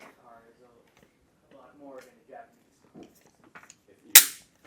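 A toy BBR gun's mechanism is pressed and then fires once with a sharp, loud snapping crack near the end, after a stretch of quiet talking and small handling clicks.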